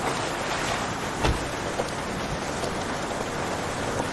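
Steady rain falls outdoors, a dense even hiss throughout with a few faint knocks, no voices.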